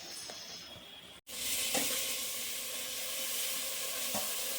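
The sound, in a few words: freshly washed mutton added to a hot pan, sizzling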